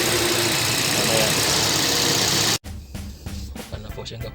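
A 2013 Toyota Vios with a misfire idles roughly. A steady dense engine roar fills the first half, then the sound drops to an uneven idle with irregular knocks and stumbles, heard close up.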